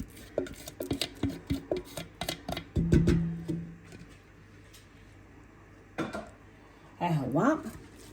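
Metal pots and utensils clink and knock in a kitchen while a rechta broth is cooked in a cocotte, a run of close sharp clatters, a pause, then scraping stirs.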